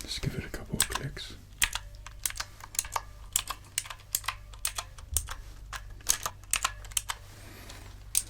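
Rapid, crisp keystrokes on an expensive computer keyboard with a typewriter-like feel, typed in close, uneven bursts with a faint low hum underneath.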